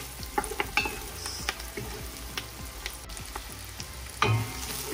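Onions frying in a pan for chicken lo mein, a soft steady sizzle with scattered small pops and clicks, one louder burst near the end, no talking.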